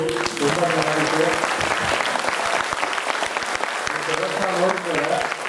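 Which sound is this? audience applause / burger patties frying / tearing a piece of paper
audience applause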